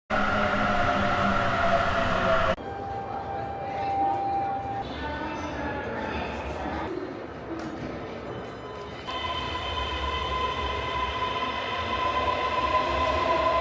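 Keisei Skyliner train at a station platform, a steady rumbling with a squealing tone and shifting mechanical hum throughout, fairly loud and continuous, with some voices mixed in.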